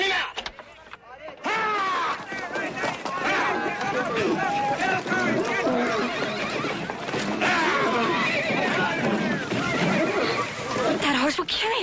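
A bucking horse whinnies and neighs repeatedly at a rodeo-style horse-breaking in an old Western setting, loud and close, amid hoofbeats, shouting and people talking throughout.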